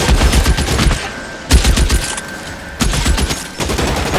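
Rapid bursts of gunfire from a 1940s Los Angeles police shootout in L.A. Noire, crackling in loud volleys with brief lulls between them, dense and close throughout.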